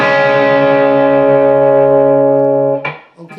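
Electric guitar playing part of a riff, a single sustained distorted chord ringing loud and steady with effects before being cut off, followed by a brief scrape.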